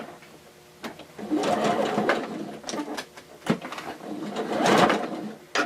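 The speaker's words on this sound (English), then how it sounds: "I try and do a couple of stitches in order to anchor it through the washing." Sewing machine stitching fabric face masks, short whirring runs of stitching with pauses and small handling clicks, heard close up.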